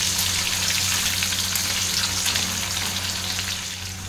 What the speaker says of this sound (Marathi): जस्ट कलर चेंज होईपर्यंत ह्यांना फ्राय करून घ्यायचं।